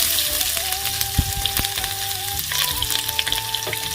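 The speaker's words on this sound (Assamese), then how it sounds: "পিঁয়াজখিনি হালধীয়া হোৱালৈকে অলপ ভাজি লওঁ" Onions frying in a pan with panch phoron, black cumin and dried chillies give a steady close sizzle with occasional stirring scrapes and pops, a faint tonal hum running underneath, no voices.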